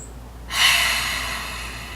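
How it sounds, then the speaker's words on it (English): One deep breath exhaled through the mouth, close and soft, a breathy rush that starts suddenly and fades slowly over about a second and a half. "take a deep breath and exhale through the mouth to begin"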